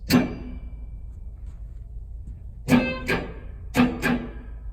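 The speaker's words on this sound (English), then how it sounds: "So very subtle, it's just a room reverb." An electric guitar played through a Big Sky pedal set to a subtle room reverb: a single struck chord, then after a pause a few more sharp plucked chords in pairs, each with a short ringing decay.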